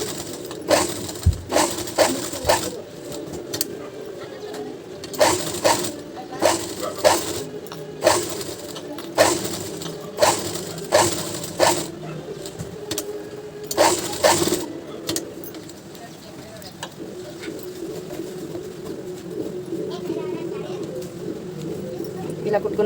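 A sewing machine stitches cloth in bursts of rapid mechanical whirring, close up, between pauses, while someone speaks in between and over it and birds coo faintly in the background.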